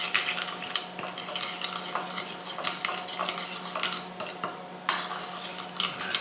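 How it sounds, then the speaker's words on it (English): Spoon mixing salt, pepper and marinade for a butterflied leg of lamb, a steady scraping stir with light clinks against the bowl, close and fairly loud, pausing briefly before resuming. "So give this a nice mix."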